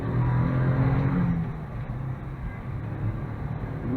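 A Daihatsu Atrai turbo kei van accelerates, its engine giving a steady low drone heard from inside the cabin, loud and continuous with a slight rise in strain.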